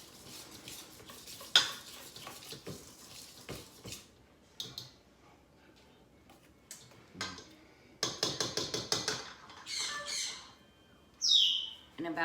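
Blueberries being folded into muffin batter in a bowl, with a run of scraping and clinking utensil strokes against the dish, close and fairly loud in bursts, and faint birds chirping in the background.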